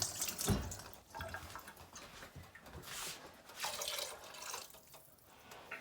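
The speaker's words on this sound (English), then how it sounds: "So I'm going to add more water." Water from a can is poured into a pot of Greek lentil soup, a faint, close splashing and trickling with uneven bursts over several seconds, no talking.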